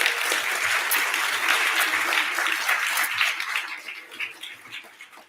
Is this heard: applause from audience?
yes